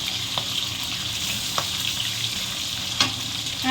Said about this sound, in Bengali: মাছটা একটু কড়া করে ভাজতে হবে